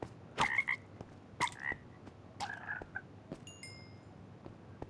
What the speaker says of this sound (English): I'm going to kill these two frogs that are down here.